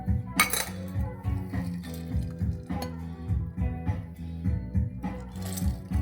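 Ice cubes dropped into a glass for an Old Fashioned cocktail, several sharp clinks and rattles in irregular bursts, close and fairly quiet, no talk.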